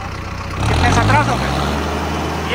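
A Mahindra Arjun NOVO tractor engine runs with a steady low rumble, swelling slightly after the first half second, while people talk over it nearby.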